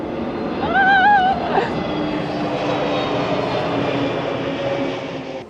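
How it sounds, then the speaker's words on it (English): An airplane passes overhead above a canal boat on the way to Edinburgh, a broad steady engine roar that swells and then holds for several seconds, with a brief voiced exclamation near the start. "Here's a plane coming!"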